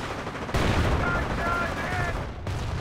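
Gunfire crackles in the World War II strategy game Company of Heroes during a city siege at the Falaise pocket, a dense, steady rattle of shots under a battle din and faint game voices.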